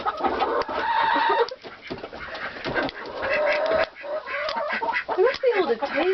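Chickens cluck loudly and close up while pecking at squash, repeated rising and falling calls overlapping with people talking nearby.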